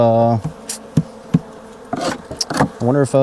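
Honeybees buzz steadily around an open hive during a spring inspection, close and continuous, with sharp knocks and clicks of hive tools and frames cutting through the hum.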